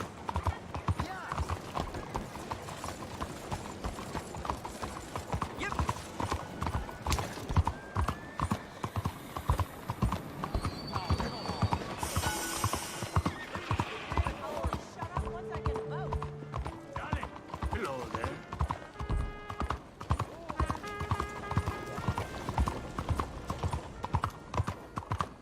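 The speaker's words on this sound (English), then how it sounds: "I feel like my giant horse is just gonna run into everything." Horse hooves clip-clop in a steady, rapid rhythm throughout the Red Dead Redemption 2 game, with an occasional whinny and some game effects, while a person talks over it.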